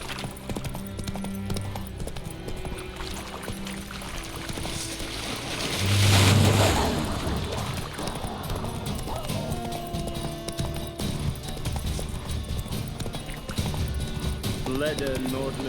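Geralt's horse Roach galloping in The Witcher 3, hooves clip-clopping steadily under ambient game sound, with a brief louder swell midway and voices talking in the scene.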